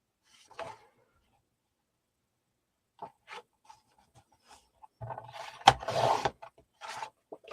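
A paper file folder is cut for a scrapbook album, giving sparse soft scrapes, then a louder close burst of rasping cuts near the end, with quiet gaps between.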